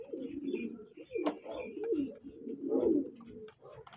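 Fighter pigeons kept as fancy birds for sale coo continuously and close by, several birds overlapping in a low, throaty, rolling murmur that swells and falls across the whole stretch.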